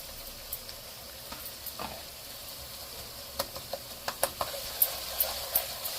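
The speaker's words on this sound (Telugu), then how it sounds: "ఒక స్పూను అల్లం వెల్లుల్లి పేస్ట్ అండి." Ginger garlic paste frying with onions in a pan makes a faint, steady sizzle, broken by a run of sharp utensil clicks and scrapes that grow more frequent toward the end; no one talks.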